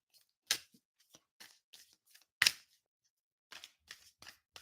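Tarot cards being shuffled in short, crisp riffles and taps, separated by quiet pauses, close and fairly soft.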